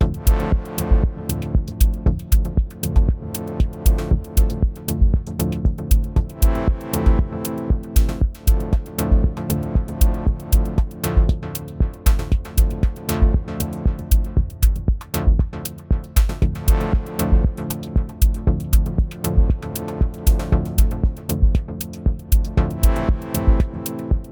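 Dub techno groove from an Elektron Digitakt drum machine sampler with Juno samples, a steady, repetitive kick-and-hat beat under washy, echoing chords, continuous and loud throughout, no voices.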